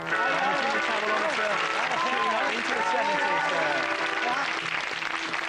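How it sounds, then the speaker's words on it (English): A studio audience at a comedy show applauds in a sustained, dense burst that runs the whole stretch, with voices and cheering mixed into the clapping. "applaud now"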